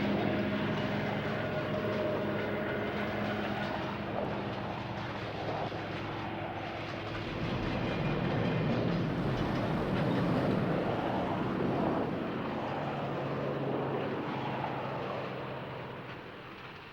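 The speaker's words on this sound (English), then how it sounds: "This train is heading toward the Montclair district." A Sacramento Northern interurban electric train heads toward the Montclair district with a steady, distant rumble and rolling rail noise that swells and fades gently over the whole stretch.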